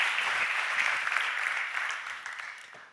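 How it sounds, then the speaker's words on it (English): Conference audience applauding a psychedelic therapist as he comes on stage, a steady crowd of clapping hands that fades gradually toward the end. "Give him a warm and big applause."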